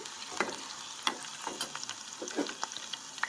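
Green chillies frying in hot oil, a continuous soft sizzle broken by sharp crackling pops and spatters at irregular intervals, close up with no voices.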